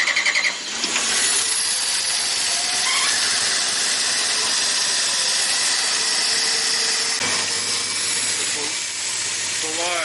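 A forklift engine fitted with a new carburetor and fuel filter cranks and catches, then runs with a loud, hissing, squealing roar close by for several seconds.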